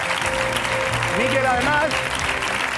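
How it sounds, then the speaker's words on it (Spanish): Studio audience applauding from the stands during a televised debate show, steady broadband clapping running the full length beneath someone speaking over it. "le vamos a saludar con un aplauso"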